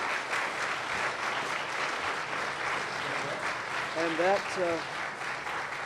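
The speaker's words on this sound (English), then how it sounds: "Ladies and gentlemen, let's give them a round of applause" Audience applause for local election candidates at an evening forum on Oak Island, a steady dense clapping throughout with a voice briefly speaking over it near the end.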